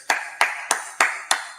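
Single hands clapping slowly and evenly, about five sharp, close claps at a steady beat with nothing else around them.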